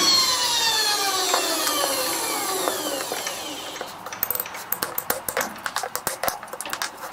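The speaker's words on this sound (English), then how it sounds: "we will drill some holes in it" A drill in a keyless R8 chuck bores holes in a center-punched piece of material, first a steady high whine, then a run of rapid sharp chattering bursts, loud and close with no talk.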